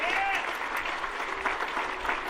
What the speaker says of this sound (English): give a big round of applause to David Zeb Cook, Stephen Winter